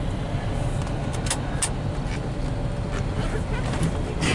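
A 1996 Buick Roadmaster Estate wagon with fairly new tires on a test drive, giving a steady cabin drone of engine and road noise with a few brief sharper noises and faint talk underneath.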